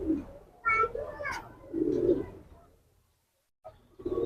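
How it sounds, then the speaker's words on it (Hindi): Lalsara pigeons, fancy red-eyed birds kept by a Bhopal pigeon keeper, give low throaty coos in a few short phrases, close by, with a quiet gap near the end before cooing resumes. "ये देख सकते हैं ललसरी, बहुत खूबसूरत कबूतर"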